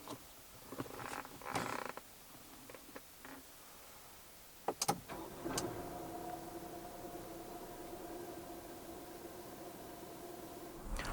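A few clicks and clunks, then a 2024 Proton X50 1.5 TGDi engine cranks and catches, settling into a steady low idle hum, heard from inside with the door shut.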